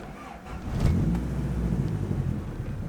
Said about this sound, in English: the exciting part of the day is going to see if the car starts here